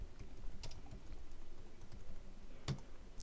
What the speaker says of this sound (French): il vous suffit de le taper.